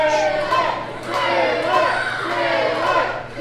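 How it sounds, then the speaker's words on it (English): A wrestling crowd at a Coastal Empire Wrestling event chants a name in rising and falling waves of mixed voices, loud and close, sustained for a few seconds. "A small minority in the crowd here, but there was a bit of a Taylor chant."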